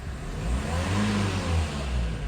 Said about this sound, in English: And it's allowing me to rev.